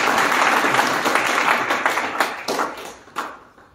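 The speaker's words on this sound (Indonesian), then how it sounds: "Tepuk tangan sekali lagi bagi Yesus." A congregation at a Sunday worship service at a theological college claps loudly, with dense applause that tapers off into a few last scattered claps.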